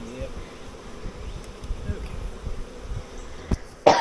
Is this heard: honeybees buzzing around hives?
yes